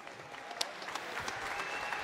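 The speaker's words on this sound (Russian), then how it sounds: "Ваши аплодисменты" Crowd applause for the winner of a fight at an MMA event, steady dense clapping from an audience, moderately loud and fairly distant, with no talk over it.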